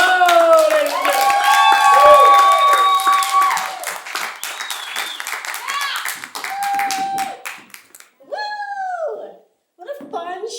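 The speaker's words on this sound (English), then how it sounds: "Guys, get the round of applause going." Audience applause and cheering for a comedian at a live late-night comedy show, loud clapping and whoops that swell then thin out into scattered claps, with voices calling over it.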